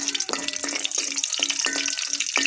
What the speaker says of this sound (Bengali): শুকনো মরিচ ভাজে নিব